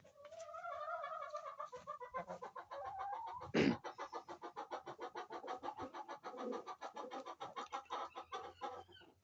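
Hens cluck in a nest box, with a steady run of rhythmic clucks close by and one sharp squawk partway through.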